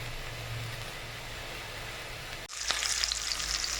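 Chopped onion fries in oil in a pan for mutton curry. A steady, moderate sizzle breaks off abruptly partway through, then returns brighter and louder, with a sharp crackle and hiss.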